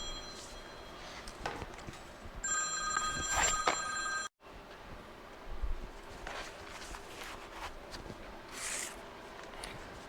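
Faint scuffs and movement in a quiet welding workshop give way to an electronic telephone ringing in a short burst of repeated tones. The ring cuts off abruptly, then soft handling noises and rustles resume.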